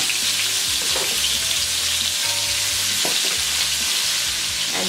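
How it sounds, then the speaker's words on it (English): Oxtails sear in batches in a hot pot with steady, loud sizzling and crackling, plus a few soft stirring scrapes, and nobody speaks. "If not, you're gonna have to sear them in batches"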